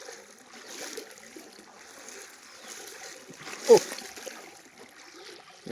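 Someone wades through knee-deep floodwater covering a road, producing faint, continuous sloshing with one sharper, louder splash partway through, close by against a quiet background.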